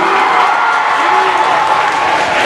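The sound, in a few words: audience applause at a spelling bee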